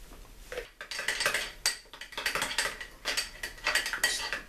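A utensil stirring cayenne pepper into a small dish of onion ring sauce, making a continuous close-up sequence of scraping, clinking taps against the bowl with no speech.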